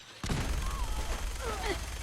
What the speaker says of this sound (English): we'll use our big old 50 cal auto cannon